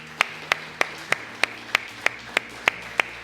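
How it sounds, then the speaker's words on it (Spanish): A church congregation claps in steady unison, about ten sharp, evenly spaced claps in quick succession with no voices over them. "Démosle un aplauso al Señor, hermanos."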